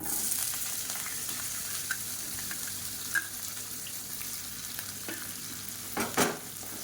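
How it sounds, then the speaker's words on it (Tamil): Chopped onions and shallots fry in oil with a steady close sizzle and a few scattered stirring scrapes, with a couple of louder clatters near the end. "வெங்காயம் நல்லா பொன்னிறமாக வதங்கட்டும்."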